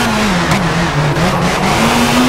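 Rally car in the WRC 4 video game on Rally Portugal, a steady loud engine drone whose pitch wavers and dips through corners then climbs again, continuous with no talk.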